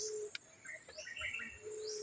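A caged bird gives clear chirping and whistling calls, close and fairly loud, in short varied phrases against a faint background hum.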